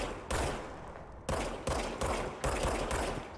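Gunfire from a gun in the video game Control, a series of sharp, sudden bursts, about five in irregular rhythm, each fairly loud and close with short decays and no talking.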